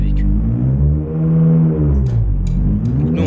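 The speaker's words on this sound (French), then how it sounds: "il a un super bon son moteur ce véhicule" A modded vehicle engine in the Euro Truck Simulator game runs loud and close, a steady strained drone with shifting harmonics as revs rise and fall, with a few brief clicks near the end.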